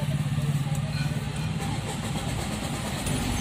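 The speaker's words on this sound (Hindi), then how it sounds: "बट मैं गाड़ी स्टार्ट करता हूँ।" A Tata Tigor XZ+ car engine turns over and settles into a steady, close low rumble that holds evenly throughout.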